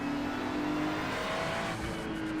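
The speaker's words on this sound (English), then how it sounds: "Car on your left" Race car engine roars loudly and continuously at the Hockenheimring in a sim racing game, a dense steady drone with a faint second car nearby, no talking.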